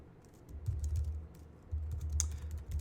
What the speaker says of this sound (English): So we're going to type in cout.